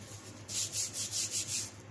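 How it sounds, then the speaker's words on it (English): Six or seven rhythmic rasping strokes of hand sanding with a sanding board during knife making, back and forth at an even pace, close and soft with no talking. "that's what I use for my hand sanding"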